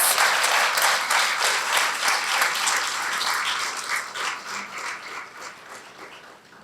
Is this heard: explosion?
no